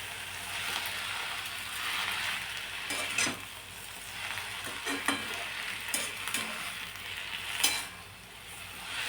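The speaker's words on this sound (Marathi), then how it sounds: "भाजी छान मिक्स करून घ्यायची कांदा आणि या मिरचीमध्ये" Amaranth (tandulja) greens stirred with onion and chilli in a hot pan: steady oily sizzling with several sharp scraping stirs of a spatula against the pan, close and continuous, with no voices.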